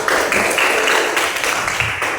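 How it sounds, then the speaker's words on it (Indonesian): A group of people clapping hands together in a room, a dense steady patter of applause filling the whole moment without pause. "kita tepuk tangan untuk kita semua"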